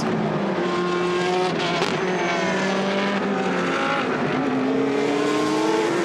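GT race cars roar past one after another on the Misano circuit during a Blancpain GT Sports Club qualifying race, engines rising and falling in pitch as several pass close by, loud and continuous.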